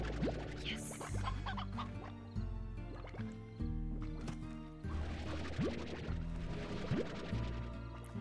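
Chickens in the video game Slime Rancher cluck and burble in quick repeated bursts over a droning musical background, fairly faint and continuous with no talk.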